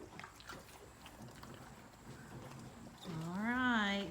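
Outdoor rustling and shuffling with soft movement on a farm, then a clear horse whinny rises and falls near the end, fairly close.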